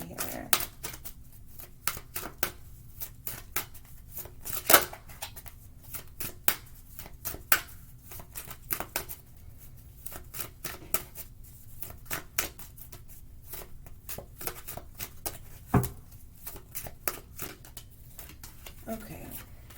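Advice cards being shuffled for a tarot-style reading: rapid, crisp riffles and flicks in quick bursts, with a sharper slap now and then, running throughout while a person talks quietly over them.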